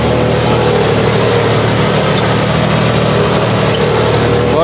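A tractor engine runs steadily in a field during cultivator tillage, a loud continuous low drone with no breaks and no voices.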